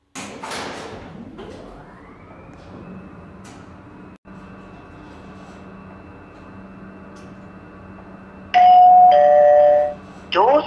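Doors on an automatic subway train in the Roblox game Automatic Subway 2 chime loudly in a high two-tone pattern, then slide shut over a steady humming train interior.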